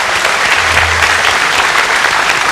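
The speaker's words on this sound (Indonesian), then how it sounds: "Kita beri tepuk tangan." Loud, dense audience applause at an Indonesian International Day of Persons with Disabilities event, a continuous close wash of clapping filling the moment.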